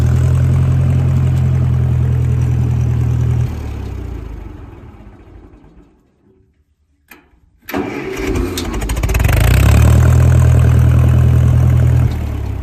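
A 1956 Massey Ferguson MH50 tractor engine idles steadily, fades away to near silence, then restarts abruptly and settles back into a loud, rumbling idle close by.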